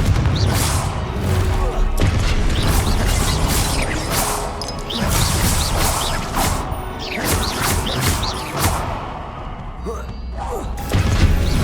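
Repeated Confringo blasting spell explosions in the Hogwarts Legacy video game, with sharp booming cracks and crashes recurring over a busy, continuous layer of combat noise.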